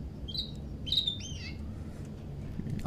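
A pet parrot in a family house in the video game Heavy Rain Remastered gives a few short, bright chirps and a wavering whistle near the start, then falls quiet over a low room hum.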